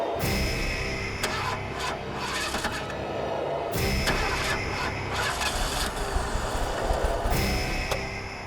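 A car engine in a horror drama scene cranks and struggles to start, with repeated mechanical churning and whirring bursts that come loud and close, then restart after a short break.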